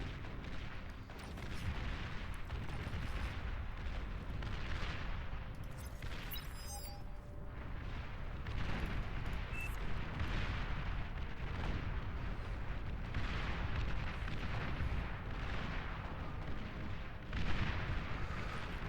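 Heavy artillery units pounding away in an 8v8 Beyond All Reason battle, a dense continuous rumble of booming shots and explosions, steady and distant-sounding.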